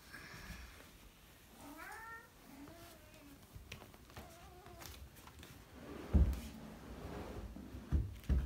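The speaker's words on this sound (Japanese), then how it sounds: "まずはこのように猫たちに起こされます。" Several of the three house cats meow at home in the morning, a series of close, rising and falling mews spaced a second or so apart, followed by thumps and rustling.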